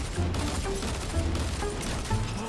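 Rapid bursts of gunfire in Fortnite crackle in uneven clusters at moderate distance, fairly quiet overall.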